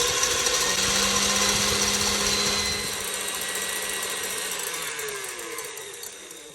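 A stand mixer whips egg whites on high speed, a steady loud motor whir with beater hum that runs continuously, easing slightly in level toward the end, with no talking.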